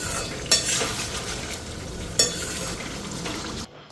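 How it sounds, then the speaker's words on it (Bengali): A spoon stirs spices into a sizzling curry in a pan, a steady frying hiss broken by two sharp scraping knocks before it cuts off abruptly, with no talking. "এদিকে মশলা দিয়ে দিলাম তো মাখা মাখাই করুম"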